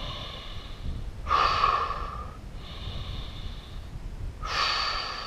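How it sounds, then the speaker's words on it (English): Deep breaths during a Pilates workout: two long, loud exhales of rushing air, with softer breathing between them, close and without speech. "Two more deep breaths."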